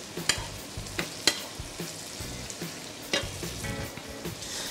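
Sliced eggplant and sweet potato sizzle and crackle in a frying pan, with a steady soft frying hiss broken by sharp clicks and scrapes as the pieces are stirred, close and fairly quiet.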